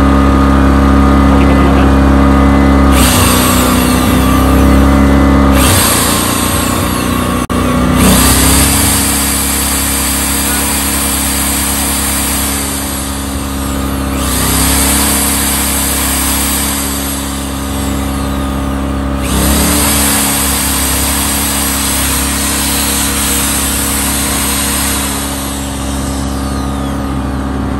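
A Hyundai HDG 2880 DIN generator engine running at high RPM, a loud, constant droning hum with brief surges and dips in pitch, with a short spoken remark near the start.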